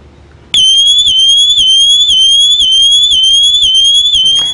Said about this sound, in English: Within seconds, the swim alert goes off, letting us know of someone in the pool.